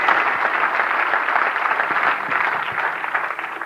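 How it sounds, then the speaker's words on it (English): An audience at a talk gives a round of applause: dense, steady clapping from many hands fills the whole stretch at a fairly loud level, tapering slightly at the end, with no voices over it. "Give her a round of applause."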